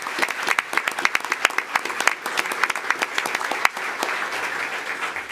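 Applause at a school board meeting from a modest room of people, with distinct individual claps standing out in an uneven rhythm before it settles into a softer patter.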